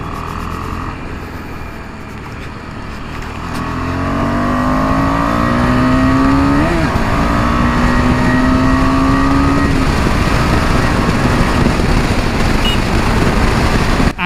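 A KTM 250 Adventure motorcycle engine under riding, rising from a lower drone into a loud, sustained drive with audible gear-linked pitch sweeps as speed builds, close and continuous.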